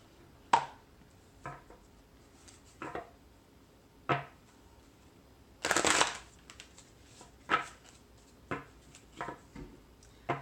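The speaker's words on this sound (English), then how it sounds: "I think I'm going to pull a card from the Nature's Whispers Oracle card deck" Nature's Whispers oracle card deck being shuffled by hand: short crisp riffles and taps repeat about every second or two, with one longer, louder burst in the middle, close and alone in a quiet room.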